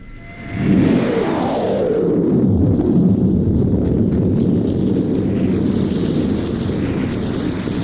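A man imitates low-flying jet planes with his voice into a Shure microphone. A whooshing roar swells in within the first second, and a descending sweep passes overhead before it holds as a loud, sustained rushing drone.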